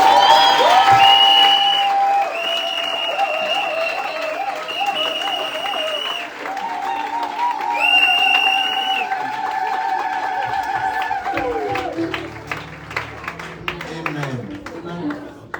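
A church congregation at a convention applauds steadily for several seconds, the clapping mixed with organ or keyboard tones and voices.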